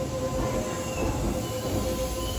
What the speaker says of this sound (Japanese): 大阪上本町行きの区間準急に乗車していきます。